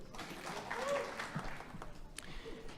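Brief applause at a high school senior awards ceremony: a soft, scattered patter of clapping from the audience over a low crowd murmur.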